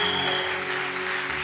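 A church congregation applauds together to acclaim the Lord, a steady, dense wash of clapping hands filling the room at even loudness from start to finish.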